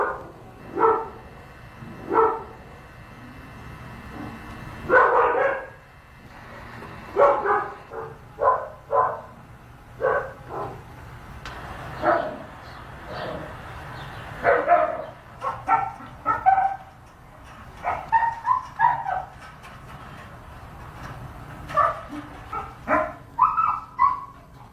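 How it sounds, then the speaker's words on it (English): Dogs bark again and again in sharp, uneven bursts, with some yips and whimpers among them, heard at a middle distance over a low, steady background hum. "These are some times that they've been barking, day and night."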